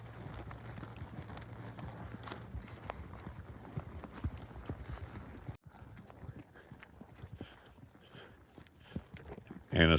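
A small horse's hooves clip-clop at a walk on a ranch morning ride, a steady, close rhythm of hoof strikes with faint voices and movement in the background.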